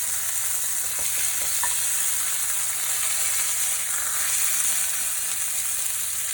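A wagyu fillet steak sizzles steadily in a hot pan after being flipped, a loud, continuous crackling hiss with no talking.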